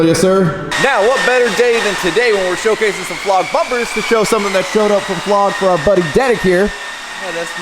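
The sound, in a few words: polishing machine buffing a truck exhaust in the background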